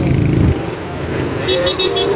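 Heavy, congested road traffic with steady engine rumble from cars and motorcycles, a horn tooting near the end, and voices talking over the din.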